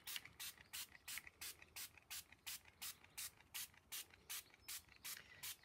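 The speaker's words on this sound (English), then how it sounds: "We'll see as we start using our water spray." A water spray bottle squirts plain water onto a textured card background, giving about fourteen short, evenly spaced hissing bursts in a steady rhythm, clear and close with no talk.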